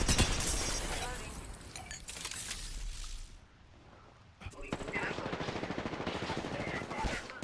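Video game gunfire with rapid automatic bursts and scattered shots, loud and dense, dropping to a quieter lull midway before the firing resumes.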